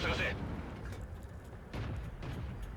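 Tank cannon fire in a tank video game: a heavy boom bursts out at the start, and a second, duller blast follows about a second and a half later over a steady rumbling background.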